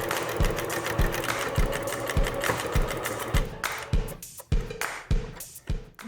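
Sewing machine stitching a fabric cover for a cardboard placemat, a loud close mechanical whir with a regular thumping beat roughly twice a second, slowing and stopping in short bursts toward the end.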